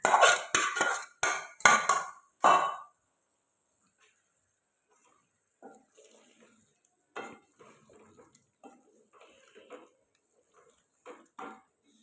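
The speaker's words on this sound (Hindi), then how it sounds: "अब ये कलेजी इसमें ऐड कर रहे हैं।" Boiled chicken liver going into a pot of cooked chicken brings a quick run of loud metal clanks and scrapes, then quieter scattered stirring knocks with some soft talk.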